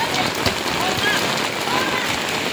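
Heavy rain pounds down steadily during a typhoon in Rizal, a dense, constant hiss that runs unbroken throughout, with faint voices partly buried beneath the downpour.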